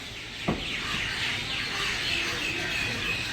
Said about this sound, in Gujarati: જો ચકલિયુંનો અવાજ મસ્ત.